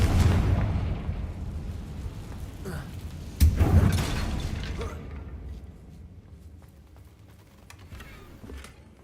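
A Confringo fire spell in Hogwarts Legacy lands with a loud, booming explosive blast, followed by a second sharp burst, then rumbling debris that fades to quieter crackles.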